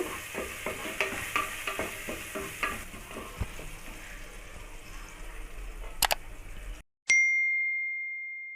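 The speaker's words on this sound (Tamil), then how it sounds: "சேர்த்துட்டு நல்லா வதக்கிக்குங்க" Ghee with ginger, green chilli and asafoetida sautés in a pan for ven pongal. A soft, steady sizzle runs under repeated stirring scrapes and taps, then stops and gives way to a single bright, ringing ding.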